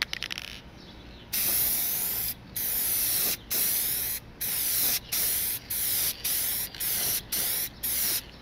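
Spray gun laying the final heavy clear coat onto a headlight lens, a loud hissing burst repeated in about nine pulses of roughly half a second each with brief gaps between, close to the listener and with no talk.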